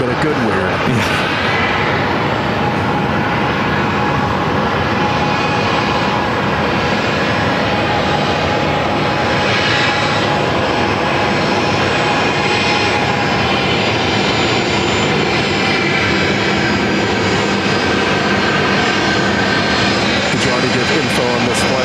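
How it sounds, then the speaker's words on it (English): Boeing 737-800 airliner arriving from Denver at Phoenix Sky Harbor, a steady loud broadband engine roar holding throughout, with people talking over it. "It's coming in from Denver, flight 1974, 737-800."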